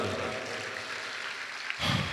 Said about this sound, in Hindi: एक बार सब एक दूसरे के लिए तालियों की गड़गड़ाहट